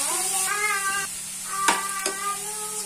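Green onion and cumin sizzle in a pan while tempering for a roasted eggplant and corn bharta. A steady close hiss carries a couple of sharp stirring clicks, and drawn-out tonal whines like a cat's meow sound over it.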